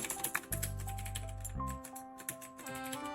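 Keys clatter on a computer keyboard while someone builds an admin user-profile setting in a Glide app, a quick run of taps over a steady low hum that lasts about a second.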